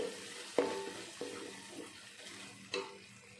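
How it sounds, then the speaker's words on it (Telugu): Ingredients frying in a pan on the stove for a Rayalaseema-style uggani, a steady soft sizzle with a few sharp knocks of stirring, close by and with no talk. "ఇప్పుడు ఒక ఫైవ్ మినిట్స్ బాగా వేగనివ్వాలి"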